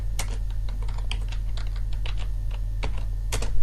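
Quick, irregular keystrokes on a computer keyboard over a steady low electrical hum, entering a search term into a database criteria field; close and clear, with no one speaking.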